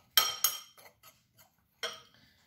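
A utensil stirs flour and baking powder together in a bowl, with a few sharp, close clinks against the bowl, two quick ones first, then softer scattered taps and a final ringing knock.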